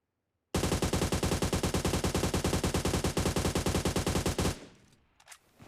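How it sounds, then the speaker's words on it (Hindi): An AUG assault rifle in PUBG Mobile empties a full magazine in one rapid, evenly paced burst of loud, close shots lasting about four seconds, then stops abruptly, leaving a faint tail. "चलिए अब AUG की फायरिंग स्पीड देखते हैं।"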